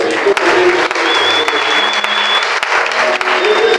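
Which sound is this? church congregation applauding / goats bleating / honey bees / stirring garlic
church congregation applauding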